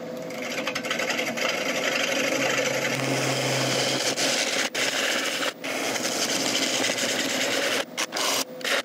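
A woodturning gouge cuts into a large ash bowl spinning on a lathe, giving a steady, loud scraping and rubbing drone with a few brief breaks as the tool lifts off the wood.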